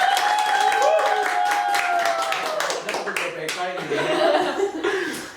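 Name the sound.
audience clapping applause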